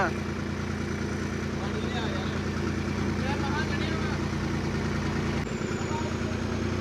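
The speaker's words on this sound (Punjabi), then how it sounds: "ਰੇਸਾਂ ਰੁਸਾਂ ਦੇ ਕੇ ਮੁੰਡੇ ਚੈੱਕ ਕਰਦੇ ਟਰੈਕਟਰ ਕਿ ਪੂਰਾ ਓਕੇ ਆ" A tractor engine runs loud and close, revved by young men checking it over, with a steady throbbing drone that holds throughout and shifts briefly near the end.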